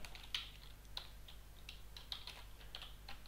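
Keys tap on a computer keyboard in a quiet room, a few soft scattered clicks over a low electrical hum, no voices.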